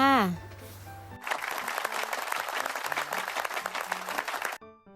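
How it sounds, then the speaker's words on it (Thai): Children applaud during a Thai numerals lesson, a bright three-second burst of many hands clapping, set between short chime-like musical tones at the start and end. "ปรบมือให้ตัวเองหน่อยค่ะ"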